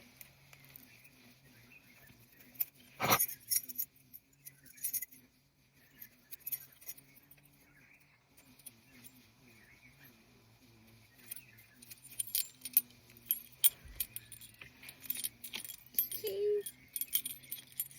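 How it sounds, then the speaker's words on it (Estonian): Keys on a Hello Kitty keychain jangle softly in quiet close-up handling, with one sharp clink near the start and scattered light metallic rattles later. "Nii et siis mul on nunnu võtmehoidja ja võtmed."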